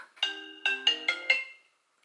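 A phone rings for an incoming call: five short, bright electronic ringtone bursts in quick succession, each with a clear tonal melody. The ringtone is moderately loud and heard alone, with no talking.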